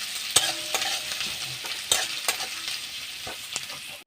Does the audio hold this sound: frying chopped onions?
yes